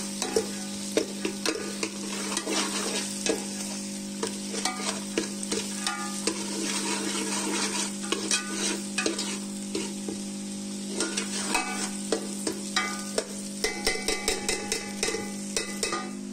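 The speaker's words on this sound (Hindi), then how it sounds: "तो थोड़ा सा हम इस तरह चमचा घुमाते रहेंगे कि ये इसके अंदर मटर जो है ना वो थोड़े फ्राई हो जाएंगे" Green peas frying in a pan while a spoon stirs them round, a continuous close sizzle broken by frequent clicking scrapes of the spoon against the pan, with no talking.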